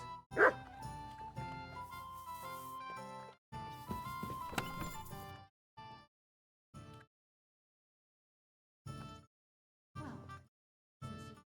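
Mutt the dog in Kingdom Come: Deliverance 2 gives a sharp bark near the start, then short yips and whimpers in bursts amid game sounds, with brief separate outbursts later and quiet gaps between.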